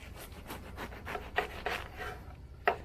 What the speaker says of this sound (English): I'm going to do a couple diagonal slices